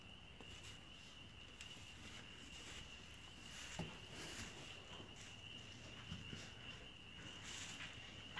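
Spring peepers, small tree frogs, call from along a creek as a dense, faint chorus of high steady chirps, with soft rustling and scattered footstep-like taps in the foreground.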